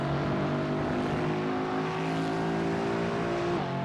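Race car in the iRacing sim accelerating hard out of long turn 16 at the Hungaroring during an MTEC Sprint Series race, a steady loud engine drone with rising harmonics, continuous and close, with no talk over it.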